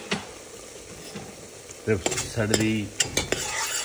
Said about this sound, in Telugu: ఇప్పుడు దీనిలో మనము కొంచెం గరం మసాలాలు ఏంటంటే ఒక 4-5 ఇలాచీలు, లవంగాలు, 2 పట్టా, 2 ఆకులు వేసేసుకుందాం.